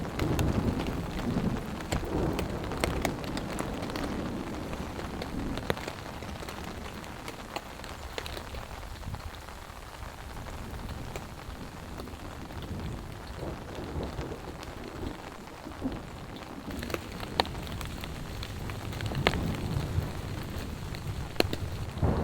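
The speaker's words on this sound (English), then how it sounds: "I tell ya, that storm is close. All of that thunder, all of that lightning." Heavy rain pours steadily onto a tarp shelter during a close thunderstorm, with low rumbles of thunder rolling underneath the constant hiss, loud and continuous throughout.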